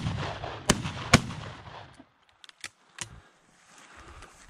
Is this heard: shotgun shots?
yes